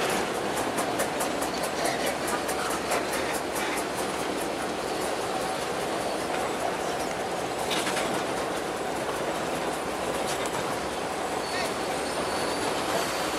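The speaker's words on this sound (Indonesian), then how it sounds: "Ini dia rangkaian lori terakhir yang dibawa oleh lokomotif D10." A narrow-gauge cane train of lori wagons pulled by a D10 diesel locomotive rolls past a level crossing, with steady rumbling and rhythmic wheel clatter over the rails, fairly close and continuous throughout.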